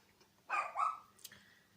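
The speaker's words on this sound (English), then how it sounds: "and the dog's barking again." A single dog bark, muffled and somewhat distant, followed by a fainter short yelp, with quiet room tone around it.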